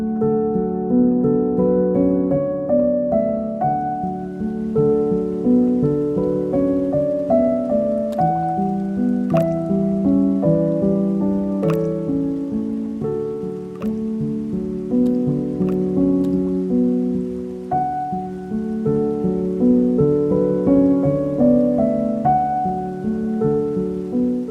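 Rain falls steadily in the New England countryside at Christmastime, a soft continuous patter with occasional sharper drops, close and uninterrupted across the whole stretch, with no one speaking.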